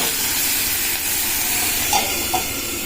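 Fish fries in a small amount of hot oil, giving a loud, continuous hissing sizzle close by with a couple of brief sharper pops near the end.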